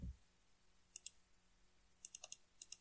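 Computer mouse clicks, sharp and close, in small clusters: a pair near the start, then a quick run of four and a final pair, with quiet room background and no talk.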